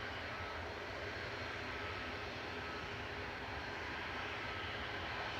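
A Virgin airliner jet climbs away from Manchester Airport, a steady, distant engine roar with no rise or fall, alone and without talk.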